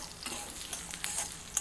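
Garlic sizzles and crackles in hot oil in a pan with the gas turned off. The sound is soft and steady, with a few brief pops and stirring scrapes, and no one speaks.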